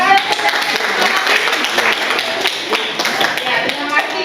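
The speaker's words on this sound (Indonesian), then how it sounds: "Tepuk tangan." A small group of listeners at a youth talk clapping their hands together, brisk uneven claps with some tapping, while voices carry on underneath.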